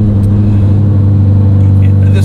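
A turbocharged Ferrari 308 engine at 3,600 RPM runs at a steady, deep drone with a constant low hum, close and loud, no change in pitch throughout.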